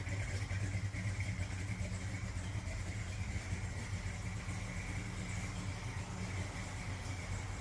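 A 1949 Chevy 3100 truck with a 350 V8 engine idling steadily, a continuous deep, even rumble that holds at a constant loud level throughout with no revving.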